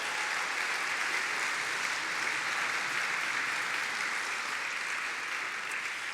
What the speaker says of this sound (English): give all our fantastic judges a big round of applause